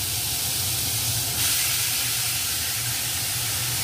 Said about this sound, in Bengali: এবার ওই সেদ্ধ করে রাখা মূলোগুলো দিয়ে দেওয়া হচ্ছে।